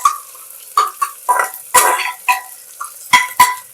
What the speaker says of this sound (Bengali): এটাকে কিছুক্ষণ একটু নাড়িয়ে নেব।